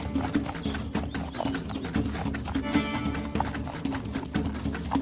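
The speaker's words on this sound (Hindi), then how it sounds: "बल्कि हमारा घोड़ा उसे लेकर आ रहा है।" A horse's hooves clip-clop in a steady, fairly loud rhythm as the animal arrives, with light outdoor background noise.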